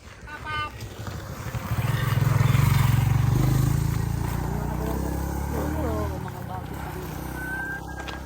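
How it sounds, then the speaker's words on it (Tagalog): A motorcycle passing on a road to a mountain area, its engine swelling in loudness then slowly fading as it goes by, with people talking over it. "Oh, may motor."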